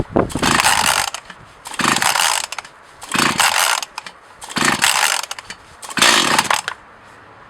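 Five separate pull-start attempts on an Echo CS-4500 chainsaw with the choke on: each pull gives a loud, rattling ratchet-and-crank burst, spaced about a second apart, with brief quiet gaps and no engine catching.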